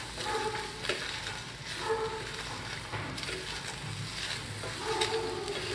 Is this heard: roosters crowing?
no